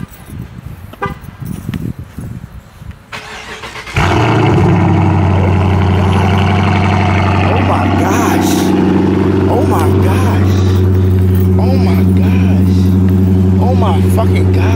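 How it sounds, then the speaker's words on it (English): Cold start of a large car in an outdoor setting: after about four seconds of voices and ambient noise, the engine catches abruptly and settles into a loud, steady, close idle with a deep drone, while people keep talking nearby. "Let's get a cold start."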